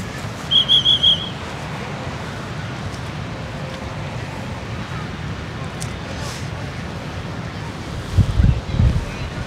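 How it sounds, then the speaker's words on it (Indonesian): Strong wind at a Bali kite festival rushes steadily across the microphone as broadband buffeting, with brief whistle-like tones near the start and a louder gust toward the end. "Anginnya cukup kencang."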